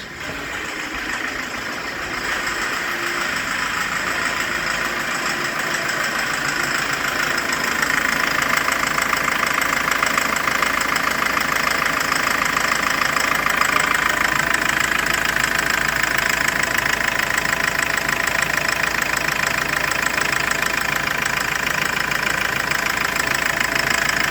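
An all-wheel-drive Ford Transit van engine idling steadily and fairly close, a continuous rumble with a faint knocking texture, no voices.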